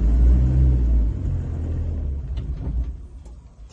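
A Chevy Tracker off-roading gives a low, loud engine rumble close by that fades to a softer idle. A few faint clicks and knocks follow near the end.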